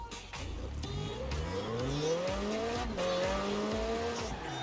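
A McLaren 570 racing in Forza Horizon 4, its engine rising and falling through gear changes under sustained tire squeal, loud and continuous with no talking.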